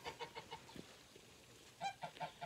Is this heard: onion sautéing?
no